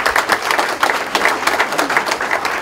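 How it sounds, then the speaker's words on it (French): A congress audience in Montargis applauds the arrival of a minister, with loud, dense clapping from a crowd that rolls on evenly throughout, close and with no talk over it. "Je vous demande d'applaudir Madame la Ministre qui vient d'arriver."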